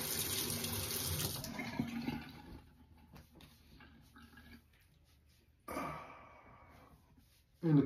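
Cold tap water runs steadily from a faucet while soap is rinsed off, loud at first, then thinning to trickles and splashes, with brief surges of flow near the end.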